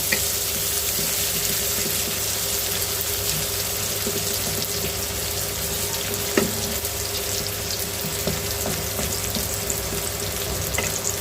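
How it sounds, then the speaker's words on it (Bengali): Onions and green chillies frying in a pan for a kachki fish chorchori: a continuous even sizzle with occasional light scrapes and clicks from stirring, steady and close, with no talking. "এরপর পেঁয়াজটা একটু ভাজা ভাজা করবো"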